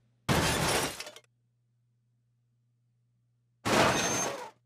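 Heavy collision impacts in a Wwise audio engine demo: two loud, harsh crashing bursts about three seconds apart, each lasting under a second, with near silence between them.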